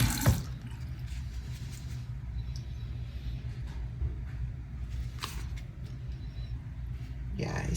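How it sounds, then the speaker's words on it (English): Stream of water poured onto waterproofed fabric, a steady soft splashing trickle throughout, with a person talking over it. "now let's do the stream of water"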